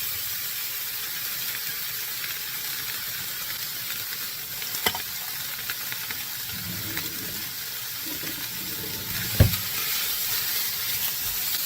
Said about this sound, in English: now I'm going to throw in my ham and my onions